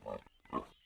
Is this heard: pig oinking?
yes